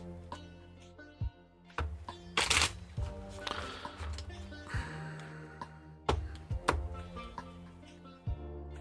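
Tarot cards being shuffled by hand, slightly sticky deck, giving irregular soft riffs and taps with a few sharper clicks, close and quiet over a background of soft musical tones.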